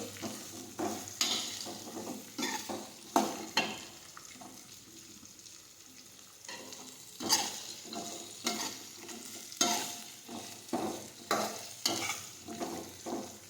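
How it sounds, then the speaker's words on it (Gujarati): Spiny gourd (kantola) sautés with cumin and asafoetida in a pan, with repeated soft scraping stir strokes and a low frying crackle running quietly throughout. "કંટોલા નાખીશું હવે આ રીતે સાતળી લઈશું"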